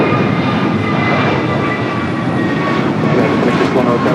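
An airliner takes off from runway 25 right at Los Angeles International Airport, a loud, close, continuous jet engine roar filling the whole stretch, with a voice faintly present beneath it.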